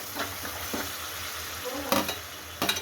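Tomatoes frying in a pan for coconut sambar: a steady low sizzle with a few louder bursts of stirring and crackling near the end, heard close.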